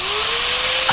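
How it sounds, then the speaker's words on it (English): A bench grinder spins at full speed in a tool shop, a loud, steady high-pitched whine with a slowly rising motor tone, and a short gritty contact sound just before the end. "Bench grinder."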